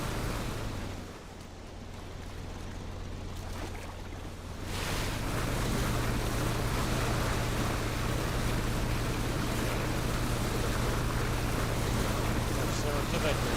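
A water scooter in the PUBG video game gives a steady engine drone with wave and wind noise, starting softer and growing louder and fuller about a third of the way through.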